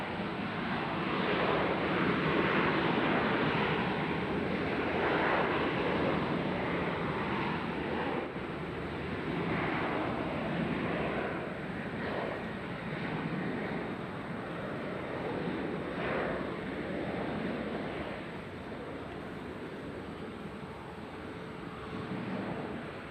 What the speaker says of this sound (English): We'll watch Sun Country take off.